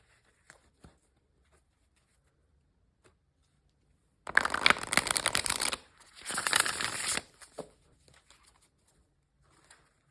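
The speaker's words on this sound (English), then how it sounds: "I'm going to shuffle." Tarot cards are shuffled in two quick riffling bursts, crisp and close, with near silence and a few faint taps before and after.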